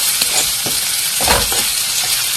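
Lentil dal with salt frying and being stirred in a pan for a drumstick dal, a steady loud sizzle with a few scraping stir strokes.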